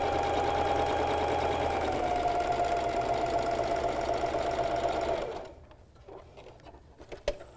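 A sewing machine runs a continuous fast stitching whir while sewing gathering lines on an upcycled tee, steady and close for about five seconds before stopping, followed by faint clicks and handling noises.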